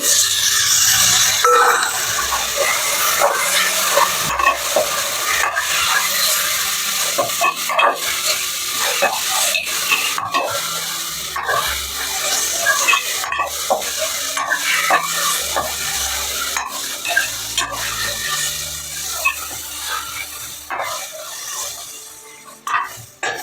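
Tomatoes frying for a mutton curry are stirred in a pan, with repeated scraping and clattering strokes over a steady sizzle for the whole stretch, close and fairly loud, no talking.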